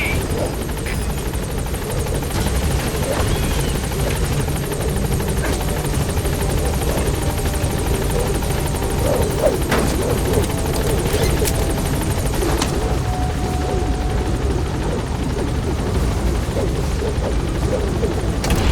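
A support helicopter in the Metal Gear Solid V game: a loud, steady rotor roar and engine drone held throughout, with faint scattered impacts in the background.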